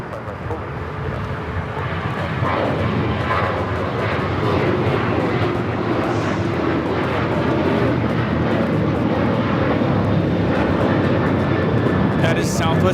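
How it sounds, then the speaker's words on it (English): A Southwest Airlines Boeing 737-800 takes off from runway 25 right at Los Angeles LAX, its loud, steady jet engine roar building and holding throughout, with a voice talking over it. "799 taking off to New Orleans on the 737-800"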